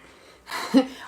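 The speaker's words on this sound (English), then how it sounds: "And a big breath out." A single big exhaling breath during a yoga flow, a soft, close breathy rush lasting under a second that swells and fades.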